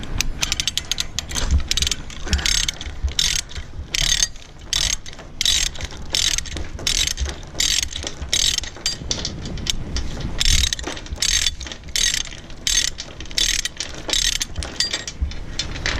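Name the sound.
ratchet load binder ratcheting on chain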